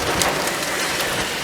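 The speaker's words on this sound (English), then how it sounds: "We just got rained out pretty hard. Good sized thunderstorm." Heavy rain from a thunderstorm at Hampton Beach pours down in a dense, steady hiss. It is loud and continuous, with no voices.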